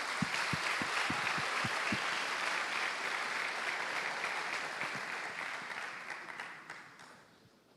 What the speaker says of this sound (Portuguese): Você pode dar um lindo aplauso a Ele?